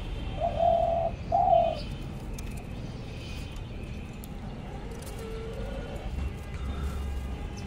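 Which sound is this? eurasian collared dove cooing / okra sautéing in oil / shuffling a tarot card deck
eurasian collared dove cooing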